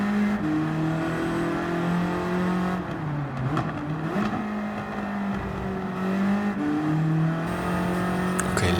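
A built car with over 400 horsepower on racing slicks accelerates, its engine droning loud and steady with rising and falling pitch as it shifts, close and continuous throughout.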